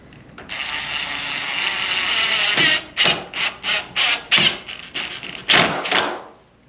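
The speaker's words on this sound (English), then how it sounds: "Most of the time you want to pre-drill these in." A steady whirring grind gives way to a series of short bursts of a drill pre-drilling screw holes in a wooden door, close by.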